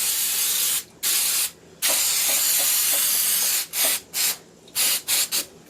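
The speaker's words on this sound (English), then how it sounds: "spray the bottoms of each of our pans" Cooking spray hisses onto the bottoms of 8-by-8 cake pans for a chocolate cake, in several close bursts: two long sprays, a longer steady one, then quick short puffs.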